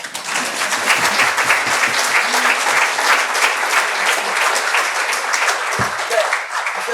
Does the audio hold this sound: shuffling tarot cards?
no